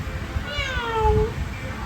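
A cat meows twice in a rising-falling pair, fairly close and clear, over a low indoor background hum.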